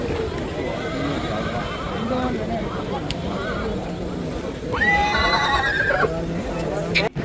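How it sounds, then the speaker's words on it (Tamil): A black horse at a busy animal market whinnies loudly up close, a rising-falling neigh, amid hoof clops, crowd noise and someone talking. "அதுவும் இந்த கருப்பு குதிரை ரொம்ப அட்டகாசம் பண்ணிகிட்ருக்கு."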